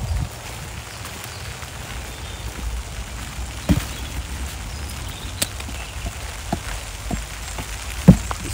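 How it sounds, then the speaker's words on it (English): Light rain begins falling outdoors among trees, a soft steady patter with scattered sharper drops landing on nearby surfaces, faint and quiet with no voices. "It's starting to rain"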